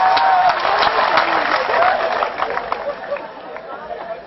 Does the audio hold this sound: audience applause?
yes